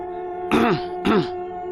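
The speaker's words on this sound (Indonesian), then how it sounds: "Wanita itu hanya berdehem." A woman clears her throat twice in quick succession, two short, close, gravelly rasps over a steady background hum.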